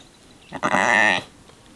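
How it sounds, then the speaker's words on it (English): A single drawn-out sheep bleat, close and fairly loud, lasting under a second against a quiet background. "These sheep are still around"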